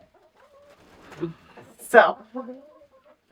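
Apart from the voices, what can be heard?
roosters clucking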